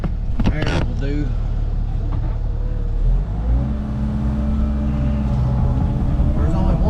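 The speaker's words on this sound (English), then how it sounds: "Problem with the blower" A blower pushes air onto a fire pit with a loud, steady whirring roar that shifts pitch partway through. A voice can be heard briefly at the start.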